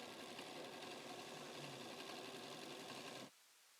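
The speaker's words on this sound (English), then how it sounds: "I'm going to sew off of my fabric tag onto that corner." A sewing machine stitches through fabric triangles with a fast, steady, loud whir close by, then stops abruptly near the end. No one speaks.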